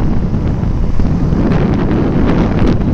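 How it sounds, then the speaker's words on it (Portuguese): Steady, heavy wind buffeting the microphone while riding a Yamaha XTZ Crosser motorcycle, a continuous low rumbling roar with gusty flutter, close and loud throughout, no voices. "acho que vai estar ventando muito pra vocês aí"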